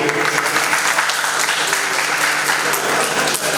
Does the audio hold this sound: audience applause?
yes